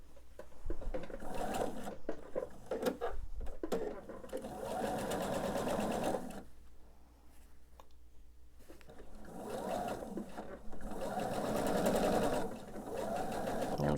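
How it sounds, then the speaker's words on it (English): A sewing machine stitching along a quilt block seam runs in close, continuous bursts with brief pauses between them, its motor whirring steadily under a voice. "I can go ahead and sew the length of this seam."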